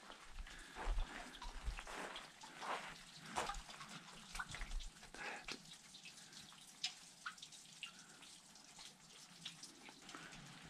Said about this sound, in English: trickling spring.